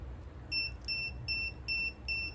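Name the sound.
tire pressure monitor warning beeping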